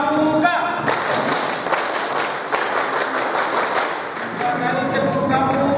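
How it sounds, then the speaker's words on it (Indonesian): A group claps the scout-style rhythmic tepuk pramuka pattern at a boarding school orientation for new students, sharp repeated claps in quick bursts, with a voice speaking briefly before and after. "Tepuk pramuka."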